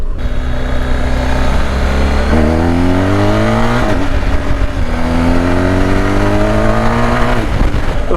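A BMW R1250GS TE motorcycle engine revs hard as the bike accelerates through several gear changes, each pull rising in pitch before dropping, loud and close with steady wind noise and no talking.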